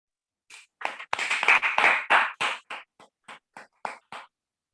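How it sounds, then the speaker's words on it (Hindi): A leadership development seminar audience in India claps for themselves, starting with a burst of loud, overlapping close claps that thin out into a few spaced single claps before stopping. "एक बार जोरदार अपने लिए ताली बजाइए"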